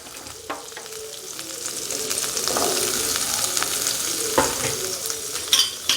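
Chopped chayote, cauliflower, beans and carrots sautéing in a pan give a steady close sizzle, with scraping stirs and occasional clinks of a spoon against the pan.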